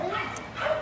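Rescued puppy mill dogs give short yips and whimpers, faint and at a distance, during the unloading of the survivors, with background noise and people talking nearby.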